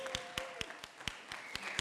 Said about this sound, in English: I want you to start clapping because you're Wayne State alum.